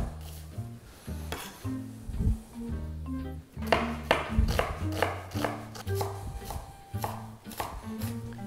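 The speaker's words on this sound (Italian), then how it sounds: "Cipolla, andiamo a affettarla." An onion sliced with a knife on a cutting board, a close series of crisp, uneven chops and taps that start sparse and then quicken into steady rhythmic cuts, with no talking.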